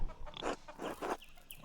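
Chickens in Pentiment cluck in a few short, close bursts, three or four quick gurgling calls in a row with faint pauses between.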